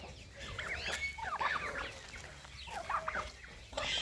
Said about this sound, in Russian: Индюки.